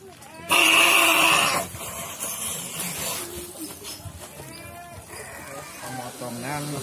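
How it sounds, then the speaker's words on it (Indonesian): A goat bleats loudly and close by during a Qurban sacrifice at a plastics warehouse, one long strained cry at the start, followed by a busy background of voices and livestock noise. "ini proses pemotongan kambing keduanya"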